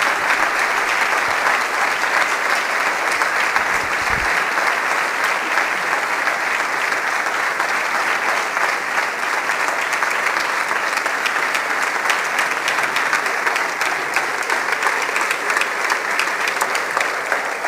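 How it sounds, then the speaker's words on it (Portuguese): Sustained, dense standing applause from a large audience at a city day ceremony in Póvoa de Varzim, steady and loud from start to finish, with no speech above it. "A sala a aplaudir de pé."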